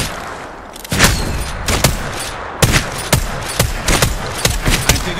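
Gunshots in a video game, sharp, loud single shots and short bursts at uneven intervals, about eight in all, over a low background rumble.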